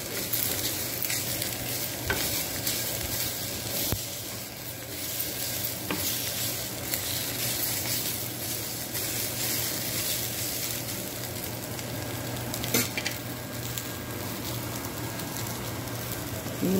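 Chillies and garlic frying in a pan for a ridge gourd peel chutney, a steady close sizzle and crackle with occasional stirring scrapes, continuous throughout and without talking.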